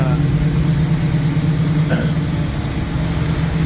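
A 1971 Plymouth Cuda 440-6 engine, just started after sitting as a barn find, idles in a steady, close, continuous low rumble with one faint brief click midway.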